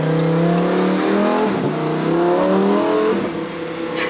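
A Lamborghini Huracan Evo engine revs hard on a downshift, its loud, close roar stepping up and dropping in pitch through quick blips between gears, with no talk over it.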